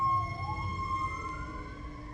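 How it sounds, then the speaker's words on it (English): Ambulance and fire truck sirens wail outside, a steady tone mixed with a rising whoop, heard at moderate distance through a room. "you'll hear ambulances and fire trucks."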